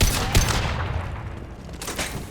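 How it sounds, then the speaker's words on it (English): Rapid gunfire from the video game Mass Effect 2 on insanity difficulty, a dense burst of shots with a couple of sharper blasts, loud and close throughout against a constant rumble. "Firing a high-impact shot!"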